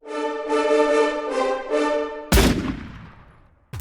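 A cannon fires in Resident Evil 4, one loud, sudden booming blast after a sustained droning tone, with a long rumbling decay and the start of another shot at the very end.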